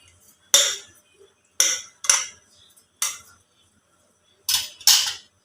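A utensil clinks against a bowl while stirring egg gravy ingredients, six sharp, irregular taps with short silences in between, close and fairly loud.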